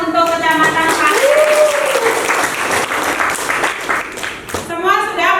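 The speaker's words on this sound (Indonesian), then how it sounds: "Kita beri tepuk tangan untuk Kecamatan Pare." A crowd applauds the Pare district presentation at a gathering, with steady clapping over several seconds while a voice talks at the start and again near the end.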